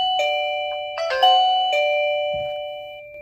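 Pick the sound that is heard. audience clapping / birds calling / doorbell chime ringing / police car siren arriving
doorbell chime ringing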